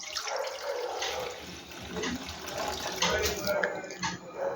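Tender coconut water poured into a bowl, giving a steady splashing trickle of liquid that runs throughout, fairly close and moderately loud, with some faint background noise.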